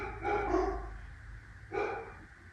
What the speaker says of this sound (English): My dogs are barking at a car outside.